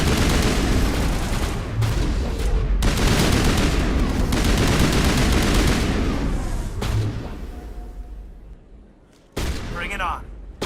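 Assault rifle gunfire in the Mass Effect game, loud sustained automatic bursts with heavy impacts, easing off toward the end before a final short burst.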